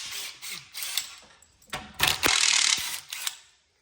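A 13 millimeter socket wrench ratchets during an exhaust install on a Gen 2 CFMOTO ZFORCE 950 Sport, giving bursts of close, dry clicking that come and go, with a longer run of rapid clicks near the end and no talking.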